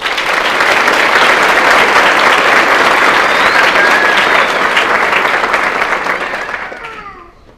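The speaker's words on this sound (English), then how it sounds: "please give her a round of applause" Loud, sustained applause from a ceremony audience for an absent award recipient, holding steady for several seconds before tapering away near the end.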